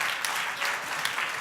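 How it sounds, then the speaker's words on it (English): Applause for a startup at a pitching competition in Dubai, a brief, dense burst of many hands clapping at an even level with a few sharper claps standing out. "Give them a big round of applause."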